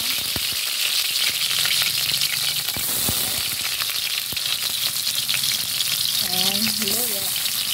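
Ingredients for pork and chicken adobo sizzle and fry in a pan, a constant loud hiss broken by scraping stir strokes, with a brief voice near the end.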